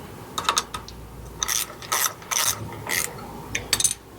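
Ratchet wrench tightening a bolt to seat the steering stabilizer bushings on a P32 Workhorse motorhome, giving several short bursts of close, loud ratcheting clicks with brief pauses between strokes.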